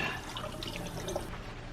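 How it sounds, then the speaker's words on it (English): Cold water from a kitchen tap pours over a raw whole turkey, a brief, close, steady splashing rush with no talk. "We're going to run some cold water over it."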